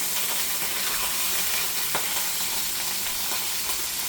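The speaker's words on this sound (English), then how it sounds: "I gotta sear this on all sides to make sure it gets a nice little sear in it" Beef for pot roast sears in a hot pan, a constant loud, close sizzle and crackle with a brief utensil tap partway through and no talking.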